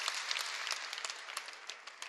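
An audience applauds during a political speech with steady, fairly faint clapping that runs continuously throughout.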